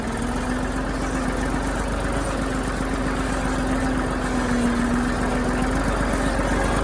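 A tractor engine idles steadily nearby, a loud continuous low rumble with a faint tonal hum and no pauses.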